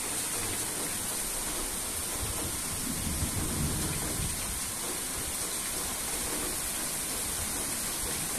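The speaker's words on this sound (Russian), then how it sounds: "Дождик, дождик, дождик." Steady rain falls outdoors, a continuous soft hiss of drops with gusts blowing the rain against a phone, even and without a break, and no voices over it.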